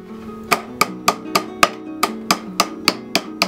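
A chicken staple is hammered in and folded over wire while building a plastic-free worm composting bin: about eleven evenly spaced, sharp ringing strikes, close and loud, with no talk.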